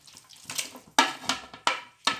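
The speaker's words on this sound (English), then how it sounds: "So I'm adding the chicken, marinated chicken, into the boiling water." Marinated chicken pieces drop into a pot of boiling water in a home kitchen, making a few distinct splashing plops spaced about half a second apart, close and fairly loud.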